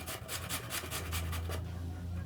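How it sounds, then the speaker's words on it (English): Potatoes scraped over a grater for hash browns, producing quick rhythmic rasping strokes close by that stop partway through, leaving a soft low hum. "So I'm done grating my potatoes. This is the last one."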